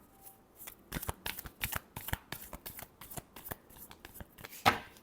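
Tarot reading cards being shuffled in a quick riffle, a run of crisp papery bursts that comes close and loud, with one sharper flourish near the end and no talking.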